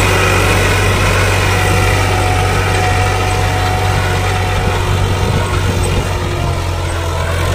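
An old tractor engine runs loud and steady while pulling a harrow through a field, a constant droning rumble with a strong low hum and no break or voices.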